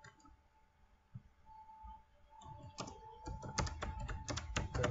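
Computer keyboard typing, quiet at first and then a fast burst of close key clicks tapping in an uneven rhythm toward the end, with no talking.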